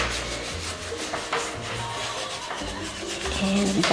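Wax being rubbed into chalk-painted furniture with a cloth or brush, making a steady, continuous close-up scrubbing and rubbing sound that runs the whole time without pause, fairly loud and with no speech.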